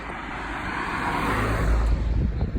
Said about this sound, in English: So we've only had light traffic on the way back here